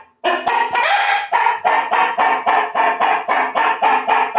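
Inside a chicken coop, a chicken gives a loud, close, harsh run of repeated cackling calls in a steady rhythm, about a dozen bursts one after another with no talking.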